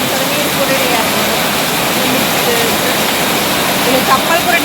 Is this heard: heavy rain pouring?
yes